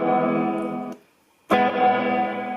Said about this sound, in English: Then we go through a couple of types of reverb.